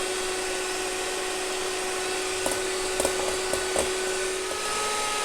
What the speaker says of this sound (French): On commence tout simplement à faire mousser les œufs